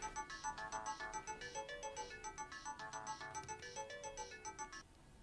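A mobile phone plays a repeating melodic ringtone at a home dinner table, a bright tune that loops steadily and faintly, then stops abruptly near the end.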